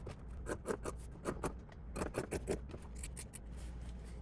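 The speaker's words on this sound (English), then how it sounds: "Now I will take my fabric scissors and just trim this seam allowance." Fabric scissors trim a sewing seam allowance in quick clusters of crisp snips and slicing scrapes, close and quiet, with short pauses between bursts.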